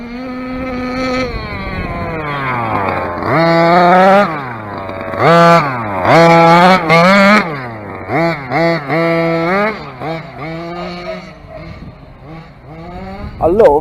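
A small model boat engine (Dragon Hammer V2) running rich, whining and rising in pitch, revving up and down in repeated bursts, loud and close, sounding slightly rough at the top end.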